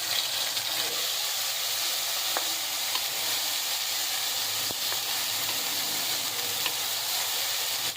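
Garlic ginger paste sizzles in hot oil with spices in a pan, a loud, continuous frying hiss with a few faint clicks of stirring, no talk.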